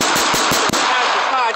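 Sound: gunshot at a shooting range

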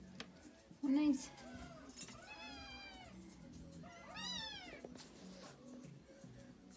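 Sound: Siamese kittens meowing

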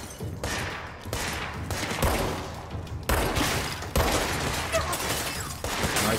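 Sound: gunfire in video game Control

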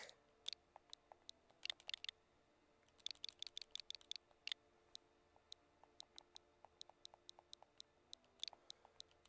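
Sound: typing on a computer keyboard

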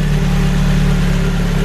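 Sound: Ford Focus RS Mk1 engine idling with tappets tapping

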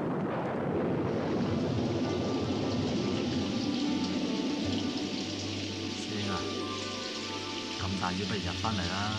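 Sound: heavy rain falling

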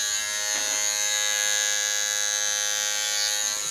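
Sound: Philips Norelco MG9000 electric trimmer running

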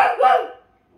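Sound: child imitating a dog barking

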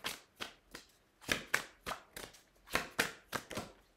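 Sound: shuffling cards after putting a card back into the deck

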